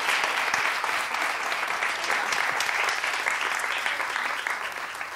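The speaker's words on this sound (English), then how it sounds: "can we get another round of applause for Dr. Thompson?" Audience applause following a planetarium astronomy talk, a steady, dense wash of clapping from a sizable crowd that holds loud and even before easing slightly toward the end.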